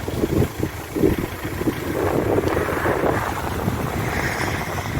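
Strong wind buffets the microphone with a continuous rushing roar and low gusty thumps, no voices present.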